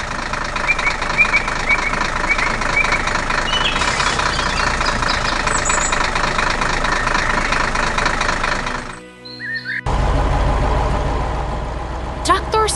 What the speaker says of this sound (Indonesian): Traktor sedang bekerja keras di hutan.